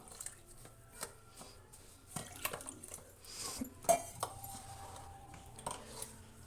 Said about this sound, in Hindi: इससे पहले मैंने क्या करना है कि सूजी में पानी डाल के इसको मैंने भिगो के रख देना है